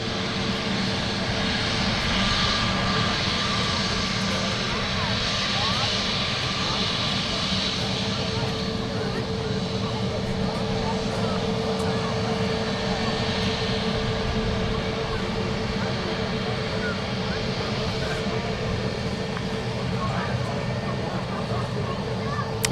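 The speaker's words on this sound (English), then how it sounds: "EasyJet taxiing out past the tower. And big Neo Leap 1A engines there." EasyJet A320neo-family airliner with LEAP-1A engines taxiing out past the tower at Manchester Airport, a steady loud engine whine and rumble held at a distance, with people talking over it.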